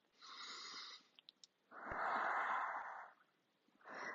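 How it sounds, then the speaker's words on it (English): Deep breathing held in yoga child's pose: a long breathy inhale, a few soft clicks, then a fuller, louder exhale, and a new breath beginning, all close and intimate with no talk. "Stay deep breath in and out."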